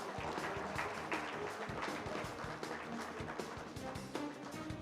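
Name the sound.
audience applause at a convention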